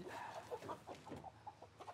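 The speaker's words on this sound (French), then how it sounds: "Ils viennent sélectionner les plus beaux chapons, des coqs castrés" Capons, castrated roosters, cluck repeatedly at a market, a string of short, fairly quiet calls close by in an irregular rhythm.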